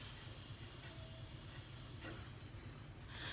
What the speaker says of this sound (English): Some sprinklers make a steady whispering sound like this.